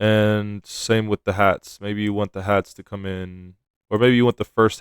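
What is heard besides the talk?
No everyday noises stand out.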